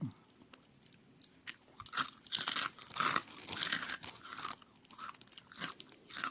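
Crunchy breakfast food chewed close to the mouth, loud repeated crisp bites and crunches coming in irregular bursts, with no talking.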